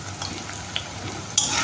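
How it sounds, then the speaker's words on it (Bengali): A brief, close burst of onion frying in oil in a pan, crackling steadily with a spatula scrape near the end. "এই পেঁয়াজটা ভাজা হয়ে গেছে"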